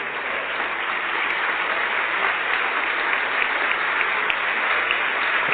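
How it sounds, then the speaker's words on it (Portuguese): A church congregation applauds continuously in a long, even wash of clapping, steady and full throughout with no talking over it. "vamos aplaudir o Senhor"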